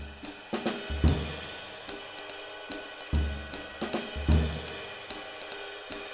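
A slow jazz drum comping phrase: kick and snare hits over a steady ride pattern, with an accented open hi-hat release on beat four each bar, no voices.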